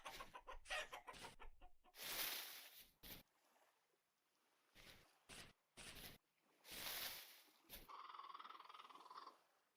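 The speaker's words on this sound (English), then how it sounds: "Hey, chickens. That's something." Chickens clucking in the video game Vintage Story, a run of quick close clucks and bursts that come and go with short silences between them.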